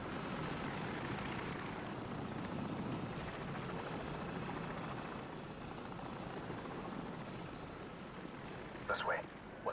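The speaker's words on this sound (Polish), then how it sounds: "Poza tym helikopterem." A helicopter in the video game Call of Duty 4: Modern Warfare drones with a steady, loud rotor roar that fills the scene throughout, joined by a few brief sharper sounds near the end.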